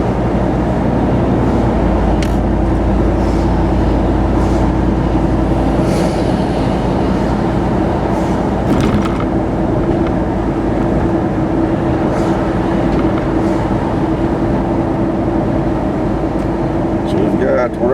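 An old GMC Jimmy truck drives on a warm day with all its windows down, giving a steady, loud roar of wind and road noise that runs unbroken from start to finish.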